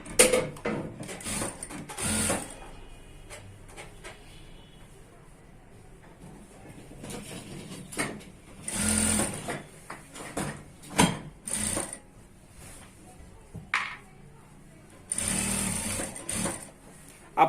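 A sewing machine stitches a one-piece dress with satin and lining fabric, running in short mechanical bursts separated by pauses, close and moderately loud, with a faint voice in between.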